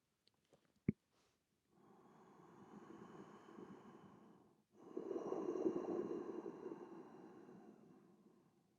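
Ujjayi yoga breathing through a closed mouth, like fogging a mirror: two long, soft, hissing breaths, an inhale and an exhale, close and quiet, after a brief sharp click.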